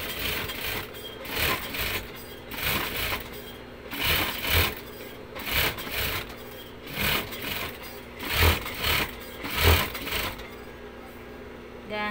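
Sewing machine stitching a trouser waistband, running in short bursts of whirring roughly every second with brief pauses between them, close and clear.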